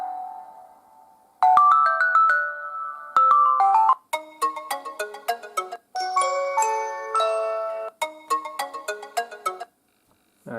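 A melodic ringtone plays alone from a Sony Xperia X running Ubuntu Touch, a few sustained tones followed by a rapid, bouncy series of bright chiming notes, fairly loud and close.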